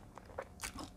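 Crisp batter-fried durian of the Monthong variety crunches sharply in a close bite, with two or three quick crackling snaps in about a second, faint and alone.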